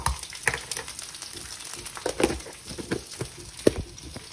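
Beef pieces coated with cornstarch frying in a pan, a steady close sizzle broken by irregular crackles and pops as the pieces are flipped, with no talking.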